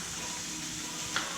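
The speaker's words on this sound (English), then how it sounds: "When we hear the sizzle, everybody hear that sizzle?" A steady broadband sizzle of mushrooms frying in a pan, fairly quiet and continuous, with a brief brighter crackle near the end.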